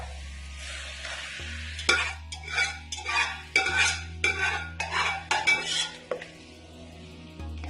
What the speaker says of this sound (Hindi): गोश्त डालेंगे कढ़ाई में